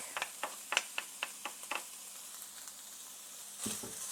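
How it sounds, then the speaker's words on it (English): Minced garlic sizzles in a hot pan with chicken while a utensil scrapes and stirs in quick, close strokes, ending with a brief surge of hissing. "I'm going to go ahead and add in some minced garlic."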